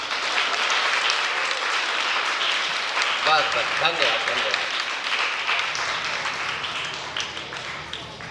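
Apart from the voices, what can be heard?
audience applause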